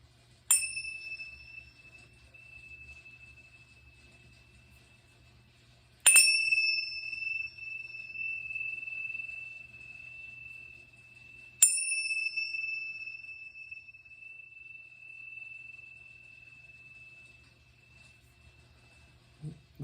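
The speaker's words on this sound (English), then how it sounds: "These are the Tibetan bells, and I use these." Tibetan bells are struck three times, several seconds apart, in a quiet room during an energy-clearing session. Each strike gives a bright, sharp ping that rings on with a long, slowly fading tone.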